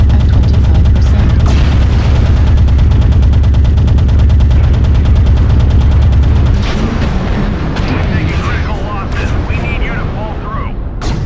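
Machine gun fire rattles in fast, dense bursts in a combat video game, loud and continuous for several seconds, then gives way to scattered booms and effects while game voice prompts sound.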